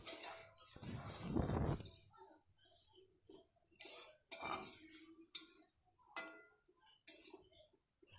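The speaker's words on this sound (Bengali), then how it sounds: "হাতে জল দিয়ে পরিমাণ মতো জল দিয়ে ভালো করে নেড়ে চেড়ে নিতে হবে" A utensil stirs shrimp malai curry in a pot after water is added, producing clinks and scraping against the metal in short irregular bursts, close and quiet.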